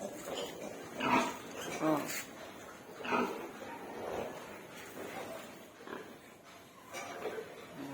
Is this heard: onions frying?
no